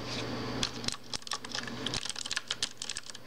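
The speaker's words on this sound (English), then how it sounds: "You hear that sound? Oh, I mean this is blue. Yeah, this is blue. Cherry switch blue." Typing on a CM Storm Quickfire XT mechanical keyboard with Cherry MX Blue switches: sharp, clicky keystrokes in quick irregular bursts, close and clear, with a low steady hum underneath early on.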